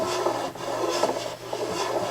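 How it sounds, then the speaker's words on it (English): Rhythmic rasping strokes of a 35-degree metal file beveling the edges of guitar frets, about four close strokes at a steady pace with no talking. "I need to use this 35-degree file and just take, you know, the edge off of these frets"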